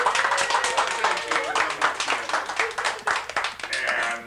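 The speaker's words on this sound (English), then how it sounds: "Everybody clap." Several people clap at a family Christmas party in 1985, fast uneven hand claps close by that run continuously with a voice over them before tailing off.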